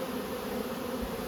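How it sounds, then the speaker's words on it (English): Honey bees buzz in a dense, continuous drone around an open nucleus hive being moved into larger boxes, the steady hum close and unbroken with pollen-laden foragers coming in. "plenty of bees in there"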